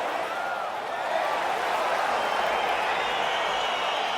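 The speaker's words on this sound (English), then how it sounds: "crowd getting excited as this fight gets underway" Arena crowd in the EA Sports UFC 4 video game cheering as a fight begins, a broad steady roar that swells slightly and holds at a constant level throughout.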